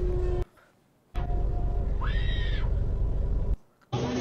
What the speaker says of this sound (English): Unnecessary scream.